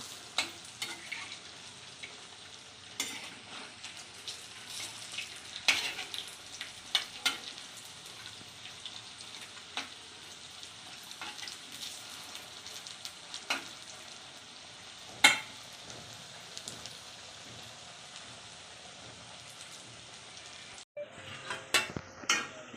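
Cabbage and flattened-rice pakoras frying in oil until red and crisp: a soft, constant crackling fry with sharp pops and the odd clatter of turning, fairly quiet and close.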